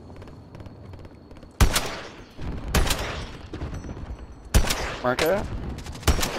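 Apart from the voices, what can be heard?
gunfire in a video game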